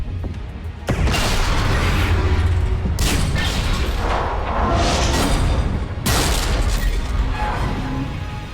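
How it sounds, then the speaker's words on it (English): Starship fleet firing on a vessel during a Mass Effect 3 space battle, loud rumbling booms and blasts in repeated heavy bursts of explosive fire. "the Creator fleet is firing upon this vessel"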